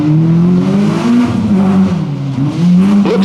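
A brand new Nissan rally car at the 1993 Network Q RAC Rally, Weston Park stage, charges in very fast, its loud engine note holding steady, dipping briefly and then rising sharply near the end.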